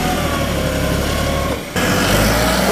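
A New Holland 3630 tractor engine runs at a steady, close, loud drone, dips briefly, then picks back up slightly stronger.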